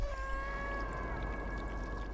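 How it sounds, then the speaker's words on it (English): A cat in the video game Stray gives a drawn-out, strained meow over a steady low hum and tonal game ambience, with no talk. "That poor little kitty got it bad"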